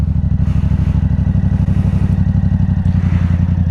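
Motorcycle idling in first gear as the clutch is eased out very slowly, a steady, loud low engine putter with a rapid, even pulse throughout.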